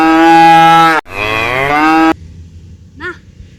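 Recorded cow mooing plays loud and close: two long drawn-out bellowing moos back to back, then silence and a short faint call.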